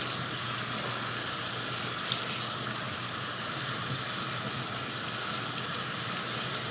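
Tap water running steadily through food in a strainer in a kitchen sink during stir-fry prep, a constant hissing splash that is close and unbroken, with no talk.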